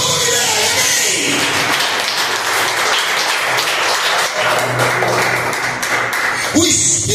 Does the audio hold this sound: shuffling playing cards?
no